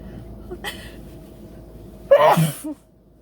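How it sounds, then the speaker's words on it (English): An allergy sneeze: a single sharp, loud sneeze bursts out after a few quiet seconds, followed by a brief breathy sound. "I'm gonna sneeze."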